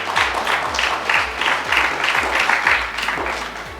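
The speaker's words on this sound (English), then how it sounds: "Please give her an applause." Clapping from a graduation audience for a primary school student whose name was just read. Moderate, fairly close applause with distinct rhythmic hand strikes runs evenly for a few seconds, then tapers off, with no talking over it.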